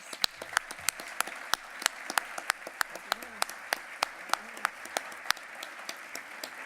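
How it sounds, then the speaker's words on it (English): A luncheon audience applauds for several seconds, a steady wash of many hands punctuated by sharp individual claps close by, with faint voices murmuring underneath. "Let's please give them a round of applause."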